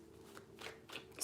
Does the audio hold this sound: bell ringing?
no